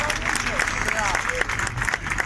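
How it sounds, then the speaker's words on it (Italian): A crowd applauds in Piazza dei Martiri in Catania during the Candelora celebration of Sant'Agata, a steady dense wash of clapping under voices and general hubbub. "l'applauso della piazza"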